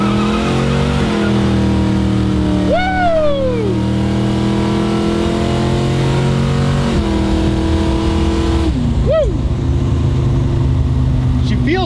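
A 1968 Plymouth Barracuda engine rumbles loud and close, then revs up as the car pulls away. The tires chirp and squeal briefly a few times as the engine note rises and dips.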